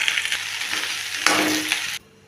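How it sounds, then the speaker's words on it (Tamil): Okra frying in oil in a pan for a spicy tamarind kara kuzhambu, a steady loud sizzle with stirring that swells midway and then cuts off abruptly near the end. "வெண்டைக்காய் நல்லா வதக்கிக்கணும்."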